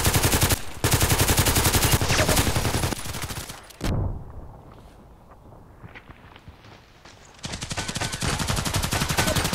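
Rapid bursts of gunfire in a sniper video game, loud dense volleys at the start and end around a quieter stretch with a sharp single crack and faint movement noises between.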